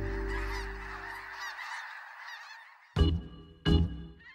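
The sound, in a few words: snow geese honking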